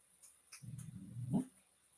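A dog gives a single low, growly bark or short growl of about a second, close by, with faint household noise around it.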